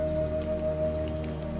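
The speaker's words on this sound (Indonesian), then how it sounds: "hujan deras turun mengguyur kampung tersebut" Heavy rain pours down over a village, a steady wideband hiss of drops striking surfaces that holds constant throughout, with a faint continuous tone running beneath it and no voices.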